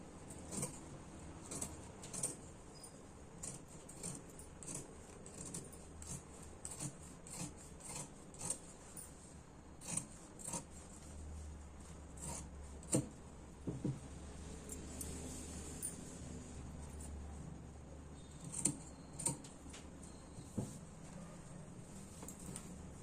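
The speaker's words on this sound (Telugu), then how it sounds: "దీన్ని నేను కటింగ్ చేస్తున్నాను." Scissors cut through blouse fabric in a quiet room, giving a soft rasping rhythm of repeated snips and rubs, faint and steady.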